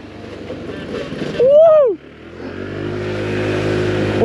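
A 2023 Honda PCX scooter ridden at full throttle whines close by, with a brief loud rising-then-falling tonal sweep followed by a steadier building engine drone.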